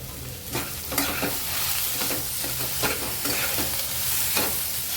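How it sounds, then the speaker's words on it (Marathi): Tomatoes sautéing in a pan for a spicy prawn masala, with a steady close sizzle under repeated scraping strokes of a spatula stirring them, no voices. "टॅमॅटो पण चांगला मऊ पण आपल्याला परतून घ्यायचा"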